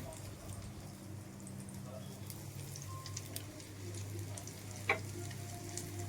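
Batches of bhajiya fry in hot oil on a gas stove, giving a steady, soft sizzle with scattered crackles and one brief louder click.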